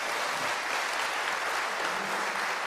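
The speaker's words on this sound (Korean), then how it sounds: "다시 한번 박수 보내주시기 바라겠습니다" A room of attendees at a Democratic Party education session in Chungnam applauds in a brief, dense burst of clapping that stays steady and fairly loud, with no voices.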